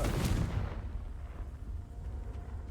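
A Confringo fire spell from Hogwarts Legacy goes off as a loud explosive blast with a sharp burst, then a rumbling low tail that fades but lingers for a couple of seconds.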